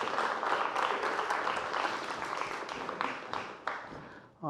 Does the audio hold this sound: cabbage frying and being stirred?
no